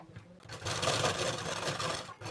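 A sewing machine running basting stitches on a blouse lining for a katori blouse: one continuous, close whirring stitch run of about two seconds, with quieter handling noise before and after.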